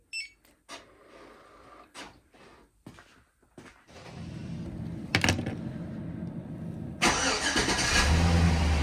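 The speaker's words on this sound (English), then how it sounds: "Truck starts." Several sharp clicks and short beeps from a two-way remote starter, then a 2003–2007 GMT800 Chevrolet/GMC pickup truck engine cranks and starts, settling into a steady idle that grows louder.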